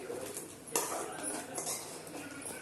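Sautéed bottle gourd is stirred in a metal cooking pot for kootu. Soft, continuous scraping and light clinks of a spoon against the pot are heard close by, with one sharper knock.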